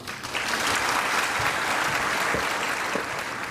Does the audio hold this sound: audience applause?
yes